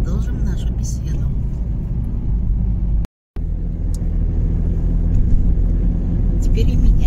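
A car drives along an uncongested evening road toward Jurmala, Latvia, with a steady low engine and tire rumble heard from inside the vehicle, briefly cutting out partway through, while people talk over it.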